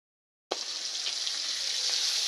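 Cauliflower coated in turmeric and salt drops into hot oil after a moment of silence, then a bright, steady frying sizzle follows at moderate volume with small crackles.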